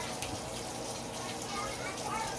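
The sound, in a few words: hot water running from a tap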